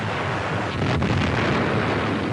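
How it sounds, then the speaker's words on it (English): Bomb bursts hit the battleship Tirpitz in archival wartime film, heard as a continuous loud roaring rumble of explosions with one sharper burst in the middle. "The ship still firing as the bomb bursts flash and gleam."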